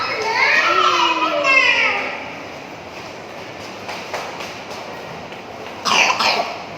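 A voice is heard first, then a couple of short, sharp coughs break the quiet later on.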